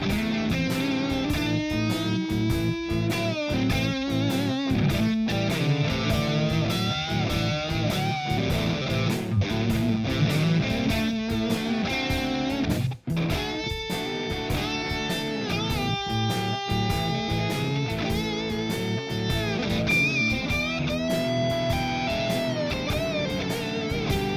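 A heavily distorted electric guitar plays through an amp emulator, a sustained, busy solo with bends and fast runs, loud and steady throughout, no voices.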